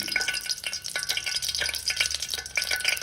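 Whole cloves, cinnamon and cardamom frying in ghee over a low flame while making payasam, a South Indian sweet, giving a steady close crackle and fizz with small irregular pops throughout.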